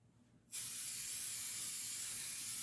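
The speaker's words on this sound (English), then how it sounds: "the way I'm going to cover it is I'm going to actually use spray adhesive" After a brief quiet moment, a can of spray adhesive starts spraying: a steady, bright hiss that continues unbroken to the end.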